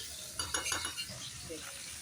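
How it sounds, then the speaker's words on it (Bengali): Malabar spinach, pumpkin and potato frying in a pan, a soft steady sizzle with a few brief bursts of stirring and a light clink of a utensil, heard close and alone. "পুঁই শাক, কুমড়ো, আলুটাকে ভালো করে ভেজে নেবো"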